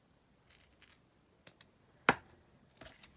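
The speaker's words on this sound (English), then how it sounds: "let's just cut some of this down" Scissors snip through paper for decorative ephemera, a few faint, sparse cuts with one sharper, louder snip near the middle, in a quiet room.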